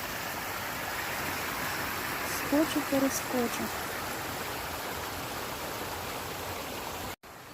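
A small river in the Carpathians near Tatariv flows with a steady, full rushing wash that fills the whole stretch, while a voice speaks briefly partway through.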